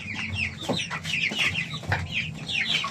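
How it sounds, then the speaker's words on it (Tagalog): Chickens and chicks at feeding time on a small farm, clucking and chirping close by in busy overlapping calls, with no talk over them. "magpapakain na ng mga sisiw ng alaga natin"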